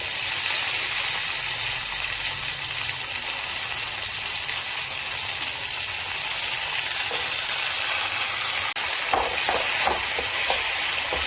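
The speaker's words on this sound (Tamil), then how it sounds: "மிளகாயும் சுண்டைக்காவும் நல்லா வதங்கிடுச்சு." Green chillies and crushed turkey berries sautéing in a little oil for a Tamil sundakkai thuvaiyal, a steady close hiss and crackle throughout with a few sharper pops near the end, no voices.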